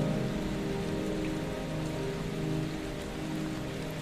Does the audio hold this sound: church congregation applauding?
no